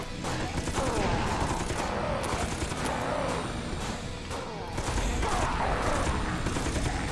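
Rapid, continuous automatic turret gunfire from the video game Dead Sky rattles off in dense bursts throughout, loud and unbroken.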